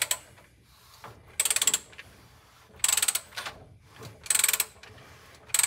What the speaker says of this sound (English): Just crank your motor around.